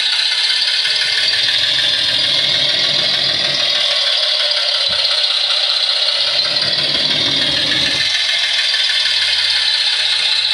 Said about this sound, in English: I started the engine and it's continuing to run until I shut it down again